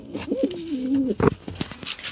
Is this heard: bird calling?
yes